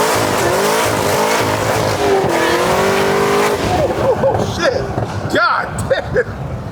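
900 hp Corvette ZR1 wheels spinning hard, a loud tire squeal and skid over a roaring engine that cuts off into brief chirps and bursts, with excited talking around it.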